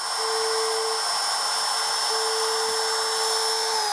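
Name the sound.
router with 1/16 inch bit cutting a slot in a guitar body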